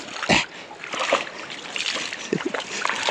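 A dog splashes in water on a horse property, with a few sharp sloshing bursts and lighter paddling splashes close by over a quiet outdoor background.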